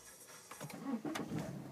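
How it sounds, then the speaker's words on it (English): The diesel engine of a 2008 BMW 123d cranks and catches, with a brief starter whir followed by the engine firing up and settling, heard close from inside the car. "just getting the car started"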